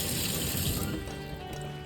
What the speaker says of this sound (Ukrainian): Відкриваємо гарячу, плам'я горить, нібито йде і гаряча вода.